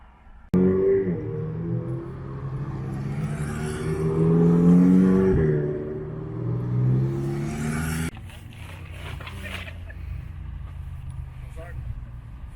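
McLaren sports car engines rumble and rev as they move past in a traffic jam, loud and close, with people talking over the traffic noise.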